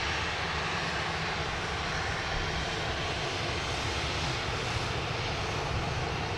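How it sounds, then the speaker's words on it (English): A pair of Virgin 737 jets taxiing at Sydney Airport, a steady loud broadband engine roar that stays even and constant throughout with no talk. "We've got a pair of Virgin 737s here taxiing out via Charlie down to 16 left."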